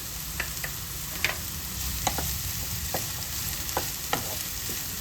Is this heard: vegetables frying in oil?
yes